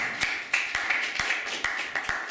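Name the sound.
audience applause welcoming a volunteer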